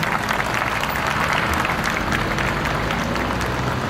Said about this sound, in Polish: Poproszę o gromkie brawa dla nich i podziękowania.